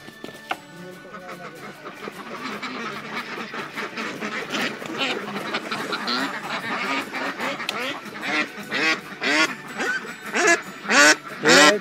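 A white-billed female duck at a government duck breeding centre in Maharashtra quacks loudly and repeatedly, the calls growing louder and more insistent toward the end, with voices in the background.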